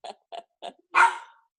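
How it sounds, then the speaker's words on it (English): A dog barks at home, three short sharp barks in quick succession followed by a longer, louder bark, close by and clear with no talking over them. "You hear my dog?"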